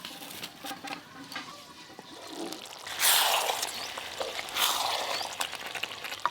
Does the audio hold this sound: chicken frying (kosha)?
yes